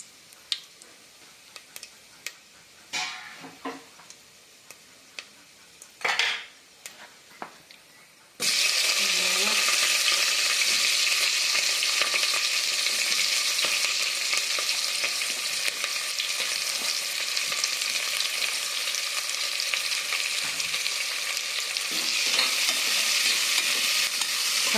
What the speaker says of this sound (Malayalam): പെരുംജീരകം, ഇത് വറക്കണ വെളിച്ചെണ്ണയിലാണ്. ശകലം നെയ്യ് ഒഴിച്ചിട്ടുണ്ട്.